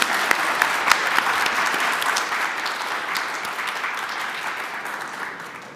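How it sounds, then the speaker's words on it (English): Sustained applause from a conference audience at an honors event, steady dense clapping throughout at even loudness, fading slightly toward the end. "let's give them another round of applause."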